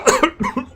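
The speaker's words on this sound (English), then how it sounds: "Sorry, I was coughing a lot." A person gives a short burst of two or three quick, close coughs, loud and alone.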